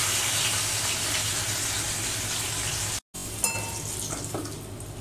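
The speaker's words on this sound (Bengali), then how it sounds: "এইভাবে সবগুলো আমি ভেজে নেব।" Raw banana kofta balls deep-frying in hot oil, a dense, even sizzle and hiss that breaks off abruptly for a moment and resumes slightly quieter with some crackles.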